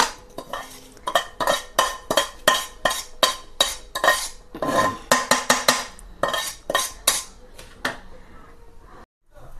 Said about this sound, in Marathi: आपण काढून घेऊया रवा